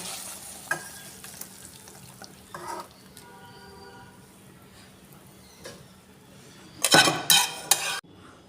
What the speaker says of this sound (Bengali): প্লেটের মধ্যে কষাটা ঢেলে নেব।